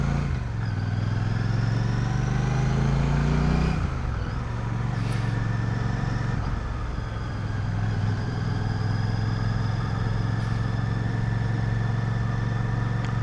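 A Royal Enfield Classic 650 motorcycle engine hums steadily and close while being ridden on a wet day, with a low droning tone that eases off briefly midway and then settles back into a continuous run.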